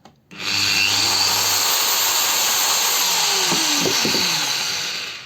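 GTM WC-125/150/1800 wall chaser starts up and runs at a steady loud high whine, spinning down slightly at the end, with no one speaking.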